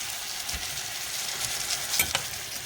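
Garden vegetables roasting in a hot pan, a steady close sizzle with a few stirring scrapes and flips partway through.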